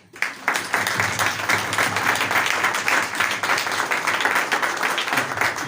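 A church congregation claps together to welcome the reading of scripture, a dense, steady applause sustained throughout at close range, with no talking over it.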